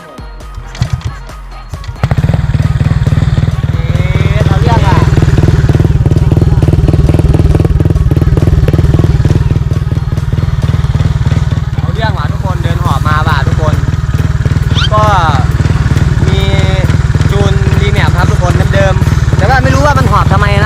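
A new, unmodified 125cc motorcycle engine starts and runs at a steady, loud idle with a throbbing low drone, while someone talks over it now and then.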